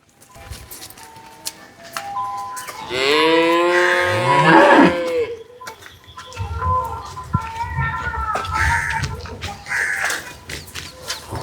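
A heavy, high-yielding dairy cow at a cattle sale lets out a loud, drawn-out moo, followed by lower grunts and bellows amid faint background voices and farmyard noise.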